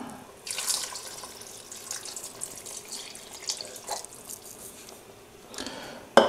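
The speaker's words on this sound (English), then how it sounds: "Now I will add the stock." Stock pours from a container into a pot of tomato soup, a steady splashing liquid stream with a few louder surges, close and clear with no talking.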